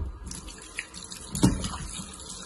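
Ginger is washed under running tap water, a steady faint stream from a faucet with a brief splashier surge midway, heard close with no talk.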